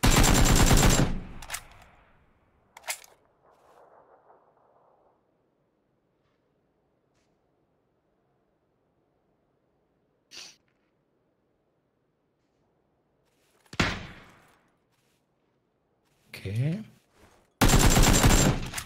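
Bursts of automatic gunfire in the battle royale game PUBG, loud volleys at the start and end with a few shorter isolated shots between long quiet gaps.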